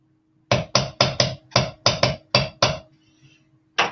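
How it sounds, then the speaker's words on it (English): A hammer strikes a wire cuff on a hard surface in about nine sharp, close metallic taps, spaced fairly evenly, then a short pause and one last blow. "And let's do indeed hammer this one."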